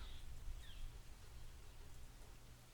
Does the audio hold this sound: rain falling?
yes